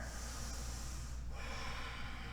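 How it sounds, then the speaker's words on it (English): A deep breath drawn in and let out through the nose while holding a yoga squat, a close, heavy breathing sound with a brief shift midway. "About 5 big breaths here."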